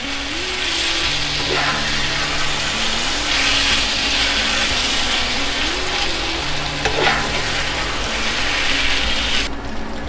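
Crushed ingredients are stirred together with jaggery for sweet raw mango pachadi, a loud, continuous scraping and stirring that runs under a soft melodic background tune.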